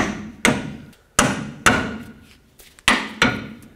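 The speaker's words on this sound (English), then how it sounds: "tap on the knuckle right here until it breaks free" A hammer strikes the steering knuckle of a 2007-14 Chevy Silverado during front wheel hub and bearing replacement, giving five or six sharp, loud metallic blows at an uneven pace, each ringing out briefly, with no talk.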